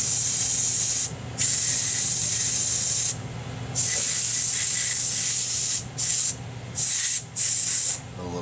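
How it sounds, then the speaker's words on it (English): Compressed air sprays in close, loud hissing blasts while cleaning an HP 2000 laptop, a long burst, a second long burst, then several short quick puffs, with a low hum underneath. "A little bit of compressed air."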